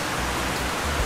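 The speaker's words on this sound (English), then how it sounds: "It's raining. A lot." Heavy rain pours steadily in Ecuador, a dense, loud, continuous hiss with no gaps and no voices.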